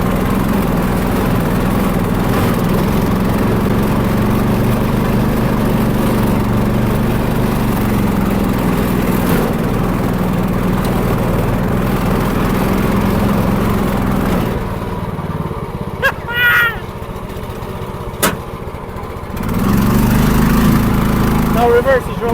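A tracked dumper's engine drones loudly and steadily for most of the stretch, then drops to a quieter lull with a few clicks and knocks before the rumble swells back up near the end.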